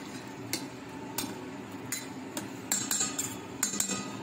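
Fried rice being stirred with a spoon in a pan: a series of sharp metallic clinks and scrapes, roughly evenly spaced, over a steady low cooking hiss.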